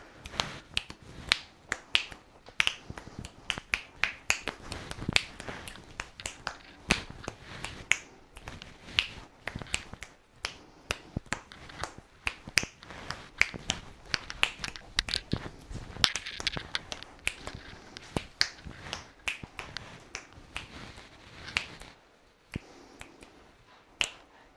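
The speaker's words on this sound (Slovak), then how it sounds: "Trošku tu skrátime čas tým mojim luskaním." A long run of dry finger snaps, near and alone, comes quick and steady for over twenty seconds with small gaps and no voices, done to pass the time during a repair.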